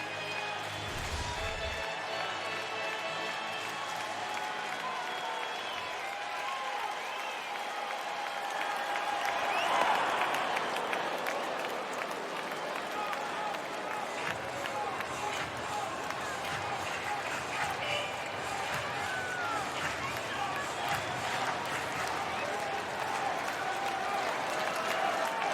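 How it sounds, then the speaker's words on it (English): Sustained crowd applause and cheering at a Cubs at Brewers road baseball game in Milwaukee, broad and steady throughout, swelling near the middle, with a commentator's voice mixed in. "Listen to the crowd."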